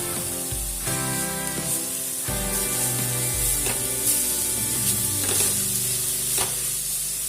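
Cauliflower paratha filling is stirred with salt in a pan, a loud continuous sizzle with repeated scraping strokes of the spoon, close up and with no talking.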